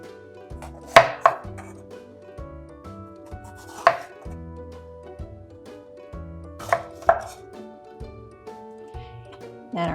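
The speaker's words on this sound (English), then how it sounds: "And then we will just cut 4 chunks off of the pepper" A knife chops a pepper into chunks on a flat cutting board, giving several sharp, close thuds in irregular groups over a steady background hum, with no talking.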